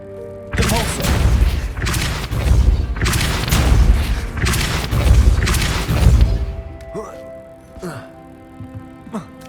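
Depulso spell in Hogwarts Legacy: a string of heavy, booming magical blasts with rumbling impacts over several seconds, then quieter game sounds as a voice speaks.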